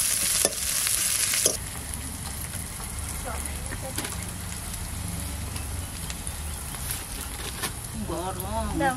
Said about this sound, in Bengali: পেঁয়াজ ফোড়ন দেবো